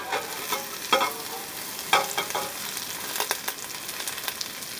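Onion, carrots and celery sizzle and caramelize in a pan over high heat for a beef and French lentil soup, with a steady fry and a few sharper stirring scrapes near the start and middle, no talking.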